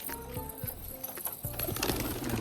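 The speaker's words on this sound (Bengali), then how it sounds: "এই যে দেখো সাদা নটটার ডাকটা কিন্তু খুব সুন্দর এই যে দেখো ওর ডাকটা দেখো" Rajshahi pigeons, including a white one, coo in a loft, low repeated calls close by alongside soft shuffling and wing flutters, with faint background noise throughout.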